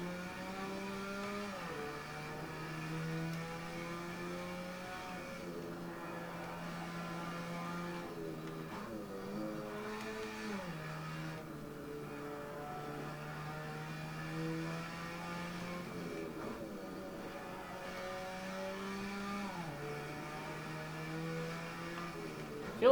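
A tuned RX7 race car laps the Nordschleife in Assetto Corsa, its engine droning and rising in pitch through repeated upshifts and braking drops, steady and continuous with no talk.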